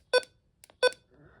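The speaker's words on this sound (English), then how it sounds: "So it has this button beep." Two short electronic beeps sound from the buttons of a Midland HH54VP weather radio, close and clear, with faint handling clicks between them and after.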